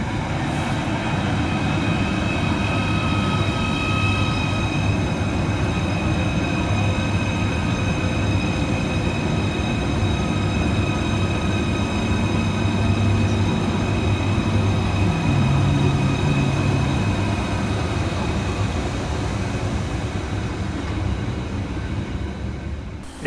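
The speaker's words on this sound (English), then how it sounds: "arriving to terminate with a Merseyrail electric service off of Liverpool Central is 777-142" Merseyrail electric unit 777-142 arrives to terminate after a service from Liverpool Central. It makes a continuous loud rumble with steady tonal motor whine, and a brief squeal partway through, held close the whole time with no pause.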